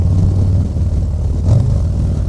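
A deep, steady 2023 Harley-Davidson Low Rider ST engine rumble with a throaty exhaust note, swelling briefly as it revs, heard up close without talk.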